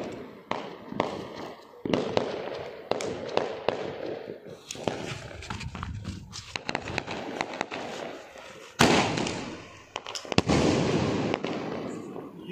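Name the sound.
sky shot fireworks exploding at a Diwali celebration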